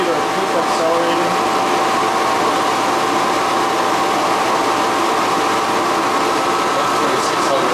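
A demonstration motor spins up toward 2600 RPM, giving a steady, loud broadband whir with a faint fixed tone that holds evenly throughout, with no speech over it.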